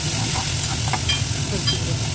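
Chopped beans, carrot and capsicum hit a hot pan for a mixed vegetable soup, giving a close, steady sizzle and frying hiss with light stirring clatter throughout.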